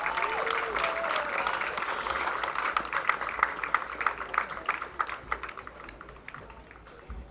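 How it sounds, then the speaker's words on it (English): A baseball crowd at a ballpark applauds during a ceremonial first pitch, steady clapping spread across the stands, growing into sharper scattered claps before tapering, with some voices mixed in. "Let's give him a round of applause."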